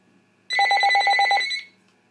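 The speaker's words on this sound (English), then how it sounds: "Got a phone call." A telephone bell rings in a single rapid trill burst of about a second, loud and close against a quiet room, then stops.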